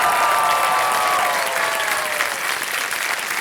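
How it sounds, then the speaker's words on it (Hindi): Loud, steady applause from a KBC game show studio audience, dense and continuous for the whole stretch with a faint tonal sweep running under it. "तालियां बजती रहे हमारे"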